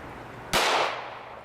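A single sharp .380 ACP gunshot cracks out as the round strikes a bulletproof face mask, loud and close, its burst fading quickly into a short decaying tail.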